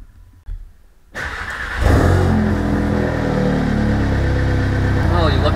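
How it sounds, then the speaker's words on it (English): Audi S3 engine cranking and catching after a quiet moment, then revving up and settling into a loud, steady idle close by. "So we're gonna start this car up"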